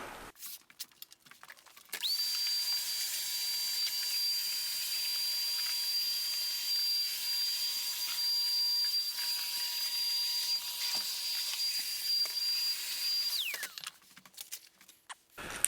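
Floor sanding machine working over hardwood floors, a steady high-pitched whine and hiss running continuously for about eleven seconds before cutting off, with quieter background before and after.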